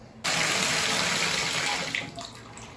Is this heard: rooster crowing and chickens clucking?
no